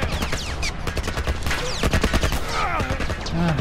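A military turret in The Last of Us fires relentlessly, with rapid, heavy shots packed closely together and whizzing ricochets throughout, loud and close amid chaotic combat.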